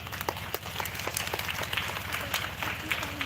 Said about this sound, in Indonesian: Kita berikan aplaus untuk beliau.